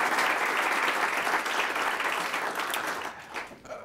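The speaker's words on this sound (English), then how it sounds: "Give our Alderman a nice round of applause again for the audience questions." Audience applause for an Alderman at an Elmhurst mayoral candidate forum, a loud burst of many people clapping that gradually thins and fades toward the end.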